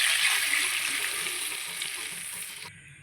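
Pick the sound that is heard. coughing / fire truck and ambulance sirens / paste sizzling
paste sizzling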